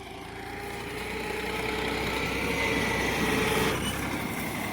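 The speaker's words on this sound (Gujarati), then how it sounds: "મિત્રો હવે રિવિસમાં લાવવાનું ચાલુ છે ટ્રેક્ટર" A tractor engine drones steadily nearby while reversing to spread cow-dung manure, its rumble swelling slightly as it works, with a brief hiss near the end.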